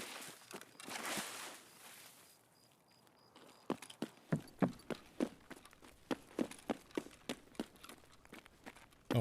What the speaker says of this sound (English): we heard a ghost footstep immediately